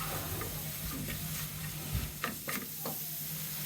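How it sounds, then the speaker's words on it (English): Spiced spring roll and samosa filling seasoned with salt, pepper and a Maggi cube is stirred in a hot pan, with a steady low sizzle and a few soft scrapes and taps of the spoon, no talking. "Stir very well before you go in and add in your carrots."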